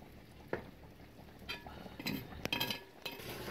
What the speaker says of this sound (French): vous continuez à remuer